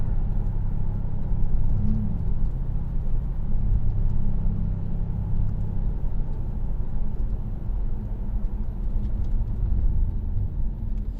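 Steady engine drone and road rumble from inside a Mercedes E350 CDI Sport AMG estate, 330 bhp diesel, cruising on an autumn drive, a constant low hum with no talk.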